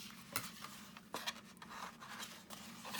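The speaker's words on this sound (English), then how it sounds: "I'm going to cut diagonally across that way" Card stock is cut diagonally with scissors for a gift box, giving faint close snips and paper rustles spread over a few seconds with no talking.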